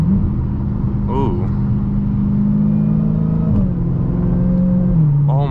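Dodge Challenger Hellcat engine droning steadily as it accelerates, its pitch dropping sharply at a hard gear shift partway through, with a person talking over the engine noise.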